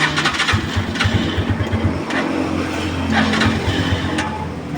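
A Rusi 175 motorcycle engine starting and warming up, close and loud, with a rapid chugging beat and a few sharp throttle blips over an uneven idle.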